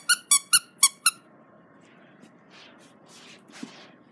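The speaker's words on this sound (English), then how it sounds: "His squeaky moose." A squeaky plush moose dog toy for a puppy squeaks five times in a quick, even series, loud and close, then only faint shuffling and soft rustles follow.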